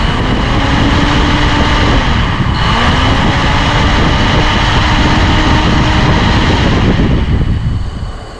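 A 1959 Mercedes-Benz 220S ventilation fan runs at low speed, giving a steady, loud whirring drone with a constant hum throughout that tails off slightly at the end.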